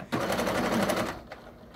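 A sewing machine stitches fabric in a short, rapid run of even mechanical clatter lasting about a second, close and clear, then stops with a faint click.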